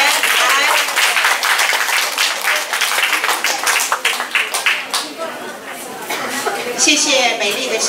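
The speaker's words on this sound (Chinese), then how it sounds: "我们现在用热烈的掌声" An audience at a Wednesday lecture gathering claps to welcome a special guest, applause rising loudly then thinning with crowd chatter and voices speaking over it.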